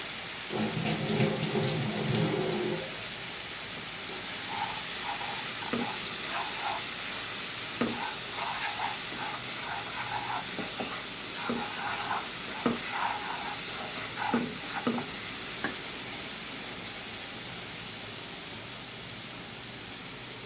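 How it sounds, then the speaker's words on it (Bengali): Spice paste with a little water fries and is stirred in a pan for a paneer and potato curry, giving a steady sizzle with scraping strokes and taps from the spoon throughout, close and moderately loud. "জল দিয়ে মশলাটাকে কষিয়ে নেব"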